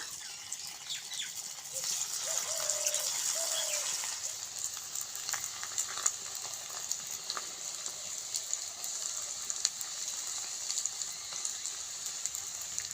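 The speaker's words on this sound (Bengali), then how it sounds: "এখন আমি এক এক করে এই যে ল্যাংচাগুলোকে ভেজে নেব লাল লাল করে" Semolina langcha sweets fry in hot oil, giving a steady, fairly quiet sizzle and crackle that runs throughout with no talking.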